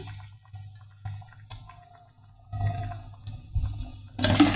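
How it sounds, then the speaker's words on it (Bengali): Fish being rinsed in water in a kitchen, soft intermittent splashing and trickling with a low hum underneath, growing louder toward the end. "ভালোভাবে মাছ ধুয়ে তারপরে আবার লবণ দিয়ে রাখছিলাম, এখন আবার দুইটা ধোয়া দিয়ে নিলাম।"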